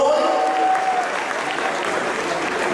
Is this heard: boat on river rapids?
no